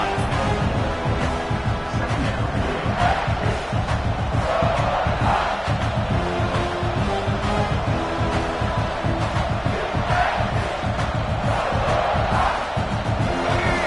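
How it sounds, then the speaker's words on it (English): A college football stadium crowd roars as the home defense digs in near its own goal line, a loud, dense wall of cheering and yelling that holds steady from start to finish. "And the crowd coming to life here, trying to help this defense down in the red zone."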